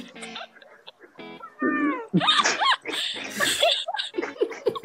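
Cat meowing in the video game Omori, several short rising and falling mews in quick succession over game sounds, close and fairly loud, with a voice briefly audible.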